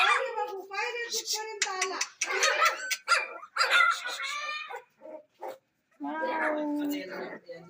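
Small puppies yipping, whimpering and giving short high barks close by, overlapping with a person speaking in a cooing voice, with brief pauses between bursts.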